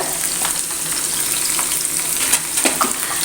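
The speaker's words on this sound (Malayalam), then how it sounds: "ഇഞ്ചി ഇട്ട് കൊടുക്കാം പച്ചമുളക് ഇട്ട് കൊടുക്കുന്നുണ്ട് കറിവേപ്പില ഇട്ട് കൊടുക്കുന്നുണ്ട്" Ginger, green chilli and curry leaves frying in hot oil for a beetroot pickle: a steady close sizzle with crackly pops and a few stirring scrapes, no voices.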